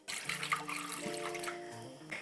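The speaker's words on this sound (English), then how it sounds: "I'm going to add additional water." Steady stream of water pouring into a pot of anchovy and sea kelp broth, a continuous splashing rush with some low ringing tones underneath, close by and moderately loud.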